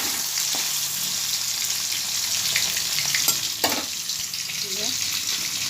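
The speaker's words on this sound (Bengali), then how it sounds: "গ্যাসে সবগুলো পনির ভেজে নেব।" Paneer pieces frying in oil in a pan on a gas stove: a steady, close sizzle with brief stirring clinks and scrapes, and a short sound of movement near the end.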